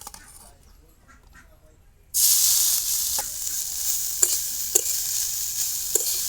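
Pieces of taro are dropped into hot mustard oil in a wok, after about two seconds of near quiet: a sudden loud, close sizzle that carries on with a few sharp taps and clinks.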